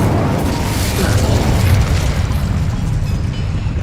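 The Incendio fire spell is cast in Hogwarts Legacy, a loud, continuous roaring whoosh of flame with a deep rumbling body that holds steady across the whole stretch, standing alone without talk.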